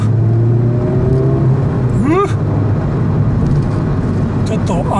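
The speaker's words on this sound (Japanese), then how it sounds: "レブマッチ、レブマッチ気持ちいいね" A Honda Civic Type R FL5 driven on a mountain road drones steadily from inside the cabin, with a quick rising engine blip as it rev-matches a downshift about midway, and a voice talks over the engine.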